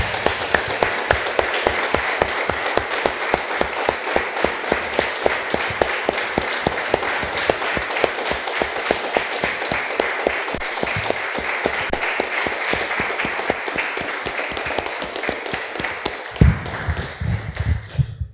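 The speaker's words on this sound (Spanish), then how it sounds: "Vamos a un aplauso." Sustained applause from a church congregation, dense rapid clapping at steady loudness that continues for most of the stretch before tapering off near the end.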